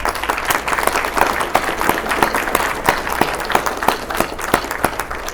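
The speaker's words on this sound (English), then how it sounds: "Give yourself an applause." Audience at a humanist gathering in Houston applauding after a speech about a state-level secular caucus, dense steady clapping from a crowd filling the room, sustained and fairly loud throughout without talk.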